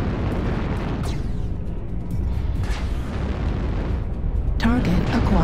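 An airstrike in the video game Nova B sets off a sustained, loud, roaring barrage of explosions that rumbles continuously, with sharper crackling bursts near the end.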